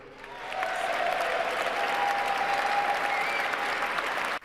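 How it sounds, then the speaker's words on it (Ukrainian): A large audience applauds the 47th US president at his inauguration, a steady, dense wash of clapping that swells after a moment and holds at full strength throughout, with no voices over it. "Аудиторія раз за разом піднімається і аплодує 47-му президенту стоячи"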